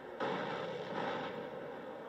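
An explosion in the video game GTA San Andreas bursts in abruptly as a loud, broad rumbling blast, then sustains as a dense roar that fades only slightly over two seconds.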